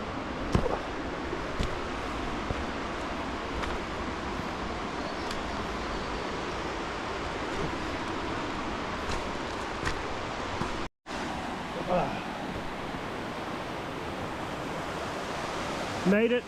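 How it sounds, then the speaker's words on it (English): A river in the New Zealand mountains on the Mt Somers Loop, where snow still lingers, rushes in a steady broadband roar that stays close and unbroken apart from one brief gap. "Made it to the river!"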